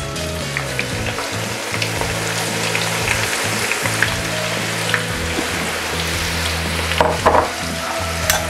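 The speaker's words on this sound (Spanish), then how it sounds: "lo que voy a hacer es freír la zanahoria. Le doy una pequeña freída." Carrot frying in a pan that already holds onion and tomato for an Italian-style Peruvian tripe stew, with a steady broadband sizzle and low rumble throughout and a few clicks and stirring scrapes, a louder burst near the end.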